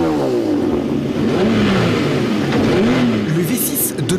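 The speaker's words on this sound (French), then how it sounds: "Le V6 donne le ton, l'atmosphère très compétition." A Peugeot 407 Silhouette with a 3-litre V6 starting up and revving hard, loud and close with rising and falling engine pitch and a brief clatter near the end, while someone talks over it.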